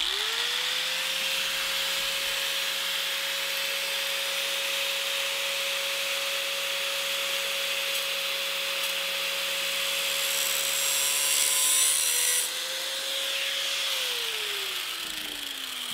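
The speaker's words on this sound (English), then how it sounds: "So we'll just put the grinder up there and grind that arm?" An angle grinder cutting off the governor arm of a Predator 420cc engine, a loud continuous whine with harsh grinding noise, winding down at the end.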